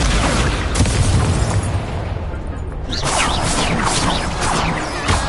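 Incendio fire spell blasts cast in Hogwarts Legacy, a loud, sustained roaring burst that dips briefly before flaring again with crackling whooshes, dense and close throughout with no talk.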